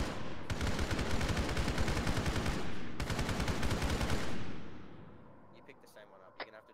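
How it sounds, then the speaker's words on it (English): Sustained, dense automatic gunfire in the ARMA 3 military shooter, loud and continuous for several seconds, then fading out into scattered faint clicks. "To our rear, we're taking shots."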